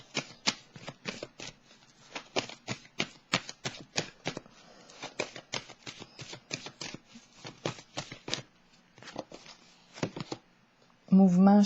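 Tarot cards shuffled by hand in quick repeated riffling bursts, crisp and close, running steadily before a short pause and a voice at the end.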